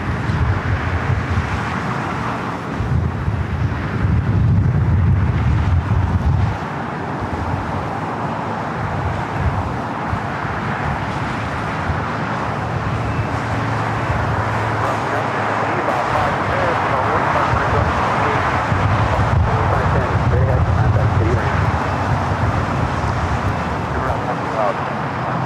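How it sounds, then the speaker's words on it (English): United Boeing 787-9 Dreamliner heavy jet departing LAX on the south side, a steady loud roar of engines and rushing air swelling and holding throughout, with a voice talking over it. "We do have United Dreamliner number 2 for takeoff here on the south side, flight 198, heading to Shanghai in the 787-9 Dreamliner"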